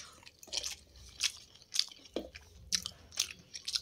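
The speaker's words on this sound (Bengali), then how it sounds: "আমি বাড়ি একা একা খাচ্ছি মাংস রান্না করে" Someone eating a home-cooked meat curry with rice, with repeated close, crunchy bites and chewing at an irregular pace, fairly quiet and with no talking.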